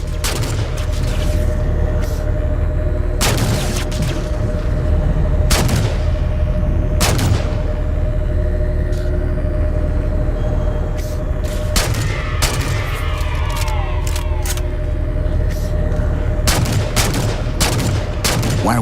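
Halo combat gunfire aboard a ship, with sharp shots and booms popping irregularly at varying distances over a steady mechanical hum and background battle noise.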